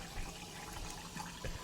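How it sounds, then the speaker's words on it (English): Sparkling water being poured, a steady close hiss and fizz of liquid with soft splashy bursts running unbroken for under two seconds. "I'm about to pour my sparkling water, just so you don't get the suspicious sound."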